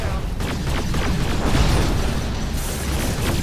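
Laser cannon fire and explosions from the USA faction's defensive laser line in Generals Evolution, a real-time strategy game, rumble as a dense, continuous barrage of booms and bursts with faint in-game voice under the battle noise.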